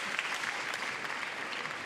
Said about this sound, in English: How sporting it is from the crowd that they warmly applaud off two fantastic